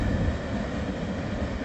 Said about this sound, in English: we had a northbound train.